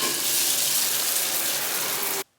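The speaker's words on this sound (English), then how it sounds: "Time to shower." A shower runs with a loud, steady, close hiss of spraying water that stops abruptly near the end, with no voices.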